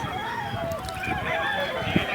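A rooster at a poultry market lets out short crowing and clucking calls close by, with market voices and background bustle running underneath.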